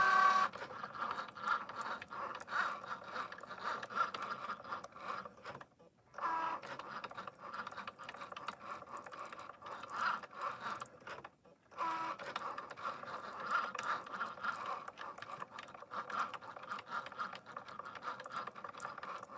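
A Cricut cutting machine runs with a steady mechanical whir and buzz, close by, broken by two brief pauses as the carriage stops before resuming.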